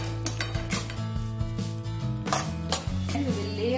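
Parboiled vegetables being mixed into pizza sauce in a bowl, with repeated close clinks and scrapes of a utensil against the dish and a soft wet stirring underneath, no voices.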